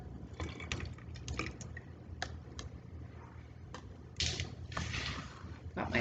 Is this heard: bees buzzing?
no